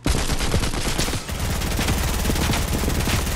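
An SMG in Fortnite fires rapid sustained bursts, a dense stream of loud close shots with only a brief dip before firing resumes.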